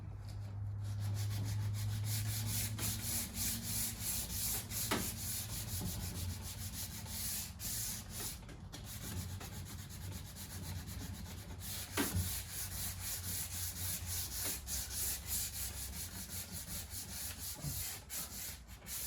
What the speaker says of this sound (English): So just want to make sure that we sand that sanding grain off.